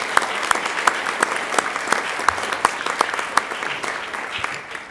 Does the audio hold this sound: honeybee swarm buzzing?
no